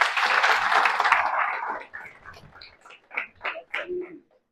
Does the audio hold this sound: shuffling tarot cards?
no